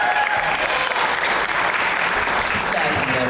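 Audience applause at a 2009 Launchpad concert for a band, a dense steady clapping from a crowd filling the whole few seconds, loud and close.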